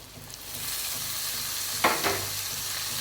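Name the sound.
onions frying and stirred in oil with chilli powder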